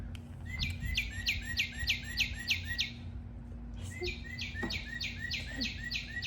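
A toy's cardinal-like call: a fast run of bright repeated chirps, pausing briefly before a second identical burst, fairly close with a faint hum beneath.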